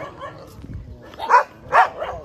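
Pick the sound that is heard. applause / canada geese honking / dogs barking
dogs barking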